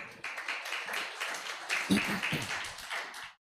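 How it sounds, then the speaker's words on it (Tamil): A church congregation applauds during a Sunday service with steady, dense clapping from many hands. It swells briefly near the middle, then stops abruptly. "இன்னொரு நல்ல ஒரு கைத்தட்டு கொடுங்களேன்."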